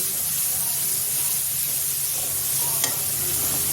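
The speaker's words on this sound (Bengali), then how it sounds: "মশলাটা ভালোভাবে কষে নেব।" Spice masala with Kashmiri chilli powder fries in a pan with a steady, close hissing sizzle and one brief clink, over a faint murmur.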